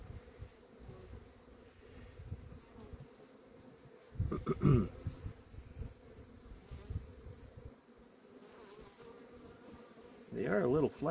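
Honeybees buzz steadily around an opened mini-nuc hive after winter, a soft close hum with louder bursts where bees fly near, and brief talk drifting in toward the end.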